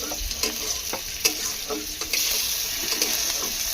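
Chopped chili and diced tomato fry in a hot pan while a spoon scrapes and stirs them. A constant bright sizzle runs throughout, broken by several sharp stirring knocks at irregular intervals.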